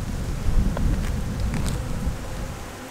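Honey bees buzzing around a hive while a frame of brood is handled, a dense, continuous low hum with brief higher whines from individual bees passing close by, with no talk.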